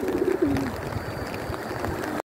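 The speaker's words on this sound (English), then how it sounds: "Next to all the pigeons." Pigeons coo by the water at Coate Water on a rainy day, a soft low call rising briefly over a steady wash of rain and ambient noise.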